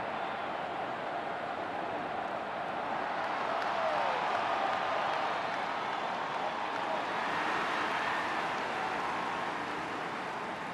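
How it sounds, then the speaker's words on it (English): A large football stadium crowd roars in welcome as the Swans take the field against the Bombers, a dense, steady wash of cheering and applause heard from a distance and sustained throughout. "Listen to that crowd as they welcome the Swans."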